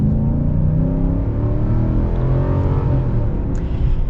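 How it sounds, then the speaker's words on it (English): A 2021 pickup truck, either a Ram Rebel or a Nissan Titan Pro-4X, accelerates at full throttle with a steady, loud, low engine drone heard from inside the cab, with no voices. "But let's get our full-blown acceleration here."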